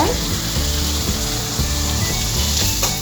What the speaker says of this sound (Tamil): கொஞ்சமாக இஞ்சி பூண்டு ரெண்டையும் சேர்த்து வதக்கி விடுங்க